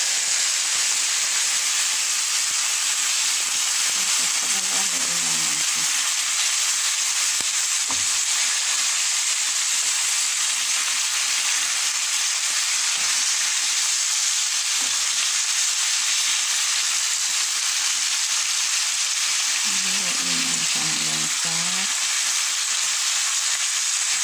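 Sauce cooking in a hot pan gives a steady, even sizzle and hiss that runs the whole time without a break. Two short bubbling, spluttering bursts rise out of it, and no one speaks.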